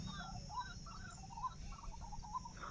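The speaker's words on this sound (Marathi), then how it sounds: "त्या बदकांचा आवाज येतोय." Ducks calling at a village pond, a run of short honking and quacking calls repeating irregularly over a low steady background hum, fairly faint and at a moderate distance.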